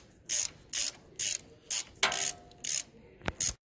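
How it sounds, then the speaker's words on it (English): Allen key bolts are tightened on a 3HP chain-drive motor, giving a steady series of about eight short rasping ratchet-like clicking bursts with brief pauses between them, close and clear with no talk. "Now we can tighten up the motor with our Allen key bolts by lining it up and just start gently."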